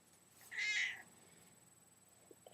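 A single cat meow, clear and fairly close, lasting about half a second, followed by near silence in an indoor room.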